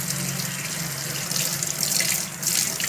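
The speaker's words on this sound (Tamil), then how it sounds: "இப்போ நல்லா மண் போக தேய்ச்சி நம்ம கழுவணும்" Cassava tubers are rinsed and scrubbed under running water in a sink, a steady splashing flow with brief rubbing surges, close and without voices.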